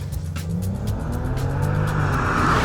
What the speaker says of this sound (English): Sport Plus, ESC off, launch control ready, go.